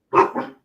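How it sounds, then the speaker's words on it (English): One dog gives a short, sharp bark that breaks into a quick double pulse, loud and close, alone and with no talk. "This is where Mark's cussing at the dogs."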